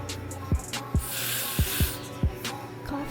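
Hair spray hisses in a sustained burst across a 26-inch kinky straight wig, set between a few sharp low taps and rustles, close and fairly loud.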